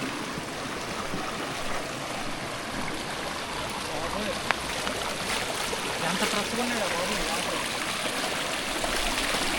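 Steady rushing water of a clear mountain stream fills the whole clip, a continuous close wash of noise with no pauses.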